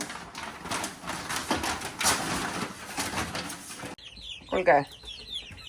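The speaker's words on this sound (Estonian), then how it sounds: "siit kanad tuppa tagasi" Chickens cluck in short bursts near the end, outdoors on a farm, following a stretch of busy noise; a person speaks briefly.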